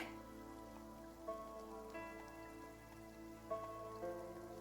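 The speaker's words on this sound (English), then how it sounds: "Can't tell with the rain these days." Rain falling in a Fallout game, a soft steady patter lying faintly under a sustained tonal musical hum, with no talk.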